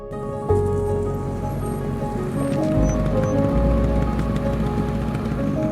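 Rain falls steadily during a motorbike ride along a forest road in a tiger reserve, a dense hiss of drops mixed with the bike's low engine rumble rising partway through, fairly loud and continuous.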